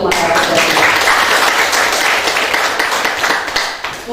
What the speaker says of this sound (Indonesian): Pasti aplaus dulu untuk masyarakat.